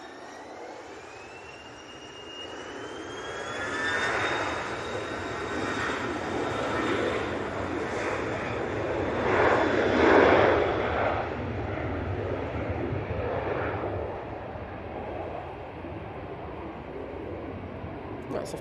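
A jet airliner departs Manchester Airport bound for Malaga, its broad engine roar swelling steadily and peaking midway before easing off, with a whining tone sweeping across the sustained rumble and some faint talk in the background.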